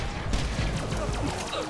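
Rapid gunfire from a Jakobs gun in Borderlands The Pre-Sequel, a dense burst of overlapping shots and impacts running steadily at close range, with game noise underneath and no talk.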